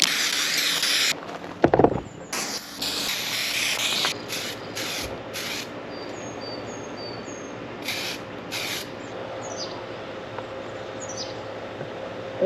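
Aerosol spray can misting clear coat onto a Mazda Miata NA side mirror, with a steady hissing spray running for several seconds, then brief short bursts, while faint birdsong chirps in the background.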